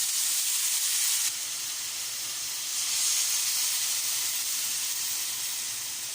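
Carrots and broccoli cook with chicken, black pepper and red pepper in a pan, giving an even, continuous steamy hiss and sizzle with no talking.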